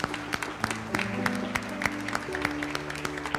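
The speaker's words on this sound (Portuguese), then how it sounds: "vamos aplaudi-lo ao nosso Deus" Scattered clapping from a church congregation praising God, with sustained organ or keyboard tones underneath and a few voices; the claps are moderate and uneven.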